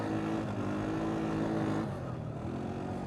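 A 550 ATV engine idles and runs steadily up close, a dense, even mechanical drone with a slight dip in level toward the end, no other sounds standing out.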